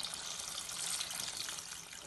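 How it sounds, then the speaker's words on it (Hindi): Water poured into a pot of chicken and potato curry while it cooks: a faint, steady splashing trickle, close by and continuous, with no talk over it. "अभी हम इसके अंदर पानी ऐड कर देंगे।"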